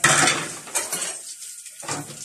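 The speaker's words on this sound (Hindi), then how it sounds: "ये कई दिनों से पड़ा हुआ बर्तन है, इसलिए थोड़ा मुश्किल पड़ रहा है।" Dirty pots and dishes left for several days being scrubbed and washed by hand: close clattering of metal utensils and cutlery in quick bursts, with a brief pause before the clinking resumes, no talking.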